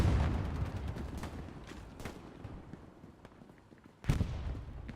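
Gunfire rattles through a World War II battle in Hell Let Loose at Carentan train station, with a machine gun among dense shots, loud at first, thinning midway, then a sharp nearby burst near the end.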